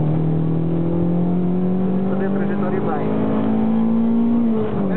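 A car accelerating flat out on the Estoril race track, the engine a loud, sustained rising drone heard from close by, with a voice talking over it.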